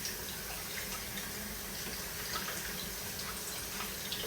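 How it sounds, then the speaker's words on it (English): Hot tap water runs steadily through a colander holding partially frozen chicken, a continuous close splashing hiss from start to finish with no talk. "I'm running some hot water through it to kind of help"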